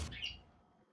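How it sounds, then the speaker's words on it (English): A single short bird chirp in the video game Wizard of Legend, a bright, quick tweet that fades fast into near silence, faint and alone. "Birds."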